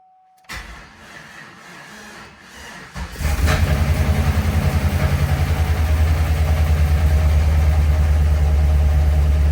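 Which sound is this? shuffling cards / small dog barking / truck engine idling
truck engine idling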